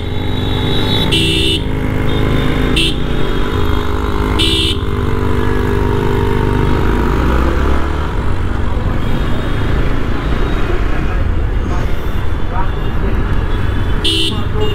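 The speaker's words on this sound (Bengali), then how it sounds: "বাইক চালাচ্ছি অ্যাকচুয়ালি" A motorcycle rides through evening city traffic, with a loud continuous engine and road roar, several short horn toots from surrounding vehicles, and a voice talking over it.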